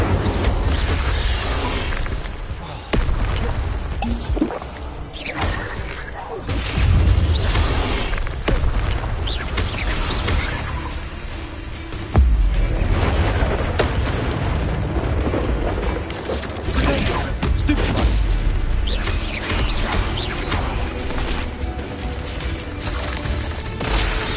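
Fire spell Incendio cast in Hogwarts Legacy during a fight with spiders, a loud sustained roar of booming blasts and crackling bursts layered over dense game music and effects, with heavy impacts recurring throughout.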